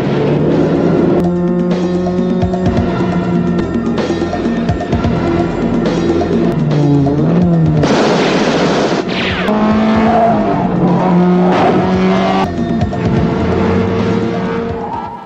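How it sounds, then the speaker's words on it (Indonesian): Movie car chase with roaring, revving car engines, squealing tires and skids, loud and continuous, punctuated by sharp impacts and bursts of noise over a soundtrack. "akhirnya terjadilah aksi kejar-kejaran"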